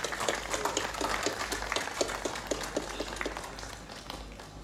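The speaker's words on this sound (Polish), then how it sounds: "Brawa." Audience applause at an opening prize gala of an agricultural livestock and machinery show, many hands clapping in a dense, lively patter with some sharper individual claps, steady throughout and alone without talk.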